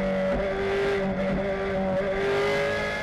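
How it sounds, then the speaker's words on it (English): A race car at Road America's carousel corner, driven with an on-and-off throttle technique, growls loudly and continuously as the engine note rises and dips with the throttle. "You pick up that on and off the throttle sound there."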